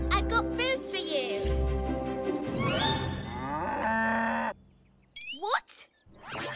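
A cartoon cow moos loudly and repeatedly in a children's animated train show, the long lowing calls mixed with music and character voices, then a few short sounds after a pause.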